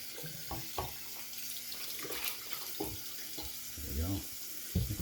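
Tap water runs into a sink while a shaving bowl is rinsed out, a steady close wash of splashing broken by a few clunks of the bowl, no one talking.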